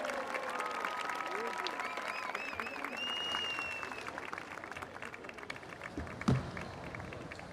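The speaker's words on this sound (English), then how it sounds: "Let's give another round of applause for Seoul of Japan." Audience at a World Culture Festival applauds after a stage performance, with steady clapping that fills the hall, faint tones of the finishing music at the start, and an announcer's voice over the crowd.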